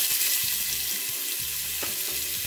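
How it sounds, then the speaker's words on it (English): Onions tipped into hot oil spiced with cinnamon, cloves and cardamom in a pressure cooker for turkey curry burst into a loud, dense hiss that holds steady throughout, close up and alone without speech. "Now add in the onions"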